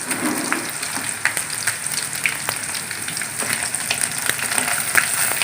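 Sliced onions, green chillies and curry leaves frying in a pan for soya chunks curry, giving a steady close sizzle with scattered crackles and small pops throughout.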